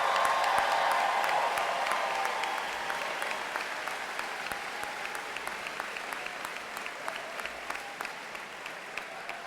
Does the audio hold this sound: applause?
yes